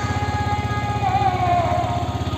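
A motorcycle engine idles steadily with a low, even chugging rumble, close and continuous, with a faint higher tone drifting over it.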